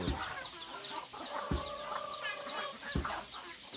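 Chickens cluck and chatter steadily nearby, with occasional soft thuds underneath and no voices.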